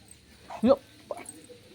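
A dog lets out two short whimpering yips in a quiet room, the first louder than the second, with soft background noise around them.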